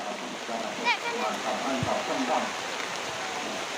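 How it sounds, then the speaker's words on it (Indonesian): Rain pours in a dense, steady hiss over an outdoor football tournament match, while a voice speaks over the downpour. "Ya, hujan-hujan."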